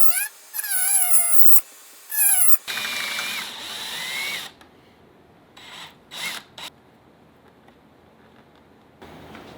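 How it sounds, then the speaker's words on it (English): A Dremel rotary tool enlarges a hole close to an edge while installing a Harley bagger stereo, heard as whining high-pitched grinding bursts, first short and repeated, then a longer stretch, with quieter handling noises after. "the only thing I can think of to do is take a Dremel and open up this hole"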